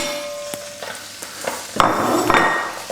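Sausages for a one-pot sausage casserole go into a hot pan and are spread around, giving a loud close sizzle broken by sharp scrapes and knocks against the pan, with no talking.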